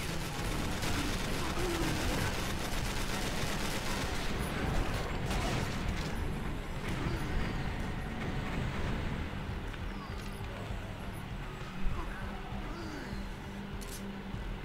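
Rapid gunfire from the Doom video game, a dense, steady barrage of weapon shots running the whole stretch at even loudness with game sound mixed under speech, one sharper blast standing out near the end.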